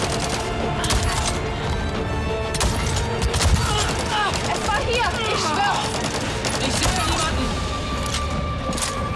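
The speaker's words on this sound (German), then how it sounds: "Ich sehe niemanden. Schießen aber trotzdem noch weiter." Rapid gunfire in the Avatar video game, dense crackling bursts and booming shots repeating throughout, with a voice talking over the barrage.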